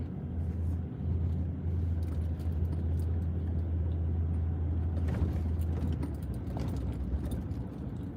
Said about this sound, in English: just doing a little beach driving here